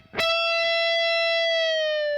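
A clean-toned electric guitar note rings out from a single sharp pluck, sustaining and slowly bending in pitch over two seconds, heard alone.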